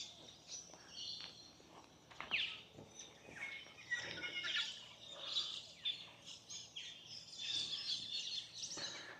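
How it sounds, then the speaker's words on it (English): Faint birds in trees chirp and call from a distance, scattered twitters overlapping against a quiet outdoor background on Coronation Drive, Innisfail, Australia. "Probably hear the birds in the tree"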